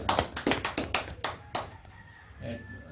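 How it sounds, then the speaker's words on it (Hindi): A small audience at a meeting claps in welcome, a brief burst of sharp, irregular hand claps that thins out and fades within a couple of seconds. "ताली बजा करके जोरदार"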